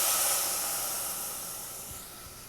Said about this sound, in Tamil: இப்போ இதில் வந்து ஒரு அரை கப்பு தண்ணி சேர்த்துடலாம்.